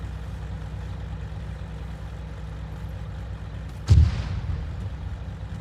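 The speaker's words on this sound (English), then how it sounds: "Apparently that mortar strike did nothing great." A mortar round strikes in the video game Arma 3, Antistasi mode on Altis: a single sudden distant boom with a short rumbling tail, rising out of a steady low engine-like drone.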